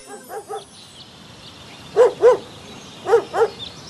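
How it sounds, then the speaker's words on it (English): Dogs bark in pairs of sharp woofs, first faint and distant, then louder pairs nearer, with short gaps between them and no talk. "I heard the dogs barking."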